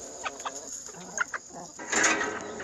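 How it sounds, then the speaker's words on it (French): Backyard hens cluck close by in short, soft bursts, followed by a louder drawn-out squawking call near the end. "J'ai de très belles poules."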